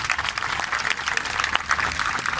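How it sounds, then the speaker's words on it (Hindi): An audience at a Hindi poetry gathering in Prayagraj claps for the poets, a continuous spread of applause at moderate loudness, with a few sharper claps standing out. "हमारे सभी कवियों के लिए एक बार जोरदार तालियां।"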